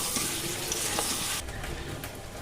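Potato pieces fry and get stirred in a pan of mutton curry cooked with little oil, a steady broadband sizzle with a few scraping stirs that quiets slightly partway through, close and continuous without voices.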